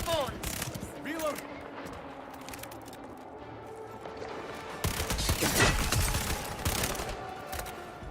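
Gunfire in the video game Highguard: rapid bursts of automatic fire mixed with game effects, growing louder and denser in the second half, with a voice talking over parts of it.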